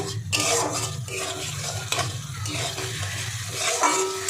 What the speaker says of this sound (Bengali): দিয়ে এবার 2-3 বার নাড়বো